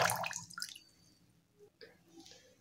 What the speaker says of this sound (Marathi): इथे मी तांदूळ धुते 1-2 वेळा आणि मग पाणी घालून भिजण्यासाठी ठेवत आहे